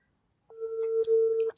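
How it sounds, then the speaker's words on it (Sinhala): A single steady electronic tone from a phone line after a call cuts off in rain with poor signal, starting abruptly and holding for about a second before a faint click at the end, alone with no talk. "ඒ කෝල් එක කට් වුණා"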